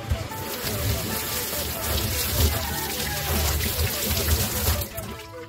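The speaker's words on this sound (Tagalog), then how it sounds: "Bali, gagamit na tayo ng dishwashing liquid para lang malinisan." A motorcycle air filter screen from a Rusi 100 is washed with water and dishwashing liquid, giving close, continuous splashing and sloshing while someone talks over it.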